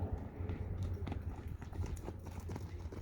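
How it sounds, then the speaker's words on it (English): A horse's hoofbeats at a canter during a training session, a rhythmic clip-clop running steadily through the clip beneath low background noise and faint breathing or movement. "I'm going to ask her for a canter here."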